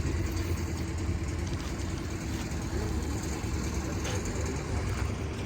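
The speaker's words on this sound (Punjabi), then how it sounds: "ਟਰੈਕਟਰ ਇਹ 55 ਐਚਪੀ ਦੀ ਕੈਟਾਗਰੀ ਦੇ ਵਿੱਚ ਆ ਗਿਆ ਠੀਕ ਆ ਤਿੰਨ ਸਿਲੰਡਰ ਆ" An Indofarm 3055 three-cylinder 55 HP tractor idles with a steady, dense low rumble that holds at an even level from start to finish, with no talk.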